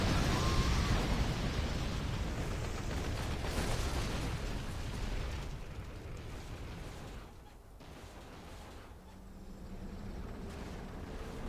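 Artillery fire support from a Sunstorm in the strategy game Rise of the Reds, heard as a sustained rumbling barrage of explosions that gradually fades, with no talk.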